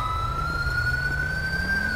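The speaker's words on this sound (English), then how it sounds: "We got ambulances taking off." Ambulance sirens wail steadily as the ambulances pull away from a simulated mass-casualty bank robbery response in GTA, a continuous rising tone heard alone over low engine rumble.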